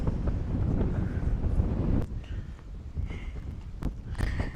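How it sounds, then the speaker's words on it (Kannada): Strong wind on a bridge near Hassan buffets the microphone in heavy, rumbling gusts that are loudest for the first two seconds and then ease into fainter, uneven gusts. "ಅಷ್ಟು ಗಾಳಿ ಬರ್ತೈತೆ."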